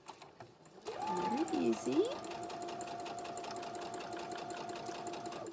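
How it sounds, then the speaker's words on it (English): A sewing machine runs steadily for several seconds while stitching a seam on a small handmade hand sanitizer carrier, a close, even mechanical whir that follows a brief spoken remark. "then I'm gonna go ahead and start sewing"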